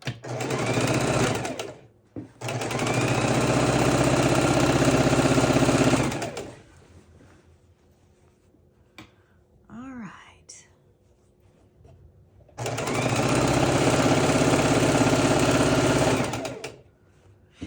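A sewing machine on rubber matting runs in three steady bursts of rapid stitching, close and loud, separated by quieter pauses with faint handling and a soft voice.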